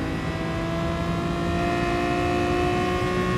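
A Ferrari 250 GT Berlinetta engine in Gran Turismo Sport holds a high, steady rev, a sustained whining drone that rises only slightly over a few seconds, loud and alone.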